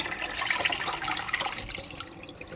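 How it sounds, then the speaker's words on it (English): Boiled nettles and water poured over a sink into a sieve, a steady close splashing gush with trickling that gradually tapers off. "The nettles have now gone a paler colour, so I'm going to pour those over the sink into the sieve."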